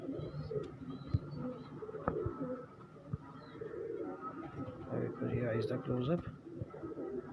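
Pigeons cooing in a breeder's loft setup, soft low coos scattered throughout beneath a voice talking nearby.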